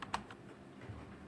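Keystrokes on a computer keyboard at a PC, a few quick clicks with one sharper tap early on, faint and close against a low background hum.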